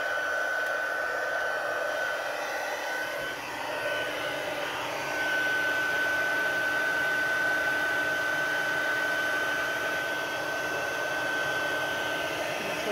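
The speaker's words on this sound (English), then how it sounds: "we're just going to use our heat tool. I apologize, it's going to get a little loud" A heat tool for embossing blows continuously nearby, a steady loud whooshing hum with a slight dip early on before settling into an even drone.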